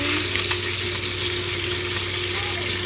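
Rice boils in a pot with a steady bubbling, hissing wash and a low cooking hum underneath, as a spoon stirs it briefly; no voice is heard.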